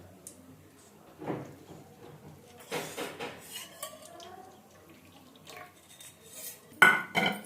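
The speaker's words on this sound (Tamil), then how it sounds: "இப்போ பற்ற வச்சு வானலை வச்சு எண்ணெய் ஊற்றிக்கலாம்" A wok set on a stove with cold-pressed sesame oil poured in, clanks and knocks of metal cookware with a short liquid pour, close by and intermittent.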